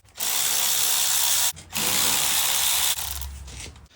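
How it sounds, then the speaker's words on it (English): A power tool whirs loudly as it backs out 8mm bolts on the stator housing of a Honda CRF110 motorcycle, running in two long steady bursts with a short pause between them and a lighter third run. "And then remove these two 8mm bolts on the stator housing."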